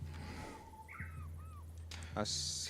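A bird caws in a video game, two short raspy calls in the middle over a steady low hum, with a brief voice and a sharp noise burst near the end.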